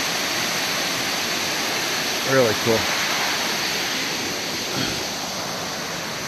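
Churned-up river water, muddied by rain, rushes steadily past a marble-edged trail crossing and footbridge on the Appalachian Trail, a constant close roar under a brief spoken remark.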